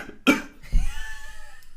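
Two coughs from one person: a sharp first cough, then a deeper second one about half a second later, close and fairly loud against a quiet background.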